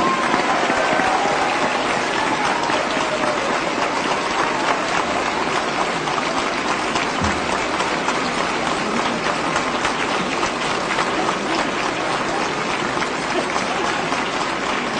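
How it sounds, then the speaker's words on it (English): A large audience applauds at an award ceremony for His Holiness the Dalai Lama in Dharamshala, with continuous dense clapping holding at a steady, loud level for the whole stretch. "Can we have a big cheer of clapping for"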